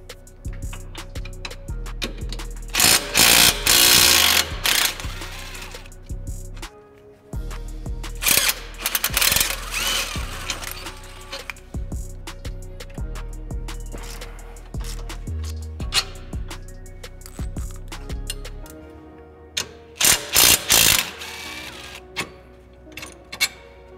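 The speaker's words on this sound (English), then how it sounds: "we're gonna be removing either this bolt or this bolt that's holding the lower control arm to the subframe, or the hub" A ratchet wrench removes the lower control arm bolt on a 2015+ Subaru WRX during a coilover install, with several loud bursts of rapid clicking separated by quieter pauses, close by.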